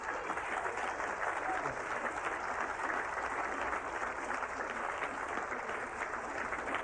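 Sustained audience applause at a 1977 jazz drum battle concert, a dense steady patter of many hands clapping throughout, fairly loud with no voices standing out.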